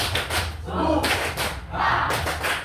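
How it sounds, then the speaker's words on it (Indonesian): A school class claps out a patterned salute, rhythmic bursts of hand claps with thuds and slaps in a group chant, loud and close in a classroom, with voices mixed in among the claps. "Kita kasih tepuk salut dulu dong."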